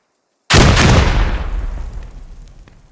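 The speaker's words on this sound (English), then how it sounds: "Grenades getting thrown out." A grenade blast in a video game battle hits with a sudden, loud, close boom, then fades through a long rumbling tail over a couple of seconds.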